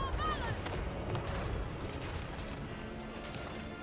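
Units shooting in a Total War: Warhammer battle, a faint, continuous crackle of volleyed gunfire and distant booms forming a busy, steady battle bed over a few seconds.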